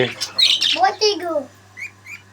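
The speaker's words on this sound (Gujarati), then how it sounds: "તો જો યુગ તમને પોપટ બતાવશે." A young pet parrot, recovering from a leg injury, gives a few close, harsh squawks followed by two short, high chirps in a quiet room.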